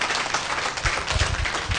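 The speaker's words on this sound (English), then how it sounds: "let us once again give a big round of applause to the two empowered women" Audience applause at a women's human rights workshop, a short burst of scattered clapping that swells toward the end, moderately loud and close.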